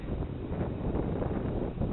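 Strong wind buffeting the microphone outdoors during a test flight of an XK Detect X380 quadcopter, a continuous low rumbling roar that fills the whole short stretch without pause.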